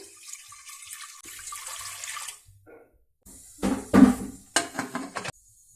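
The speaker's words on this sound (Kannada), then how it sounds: "ಅದಕ್ಕೆ ನಾನು 1 ಕಪ್ನಷ್ಟು ನೀರನ್ನ ಹಾಕೊಂಡು ಕಡಲೆಬೇಳೆನ ಕೂಗಿಸ್ಕೊಳ್ತಾ ಇದ್ದೀನಿ" Water splashes and pours into a cooking pot of chana dal close by, about a cup, rising to a few loud gushing bursts before stopping.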